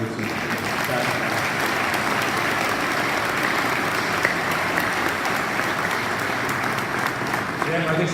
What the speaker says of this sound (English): I'd like to give a round of applause for your efforts